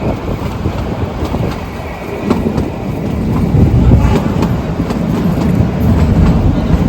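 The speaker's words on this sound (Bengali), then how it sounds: "আর এই আমাদের ট্রেন ছুটেছে, টয় ট্রেন" The Kalka–Shimla toy train, Himdarshan Express, runs at night near Solan, a loud, steady rumble of rolling carriages with faint rhythmic clicks of wheels on track, heard close from on board.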